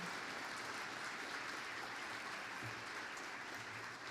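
Applause from an audience at an art colloquium, honoring the artists on stage; a steady, dense patter of clapping fills the room without pause, fairly distant and even in level.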